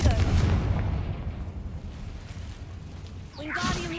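Confringo fire spell explosion in a Harry Potter video game, a heavy booming burst that rumbles and fades over a few seconds, followed by a brighter sweeping magical flourish near the end.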